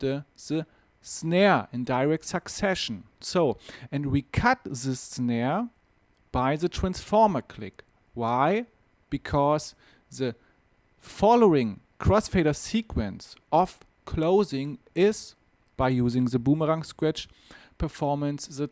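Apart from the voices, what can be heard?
No everyday noise stands out behind the speech.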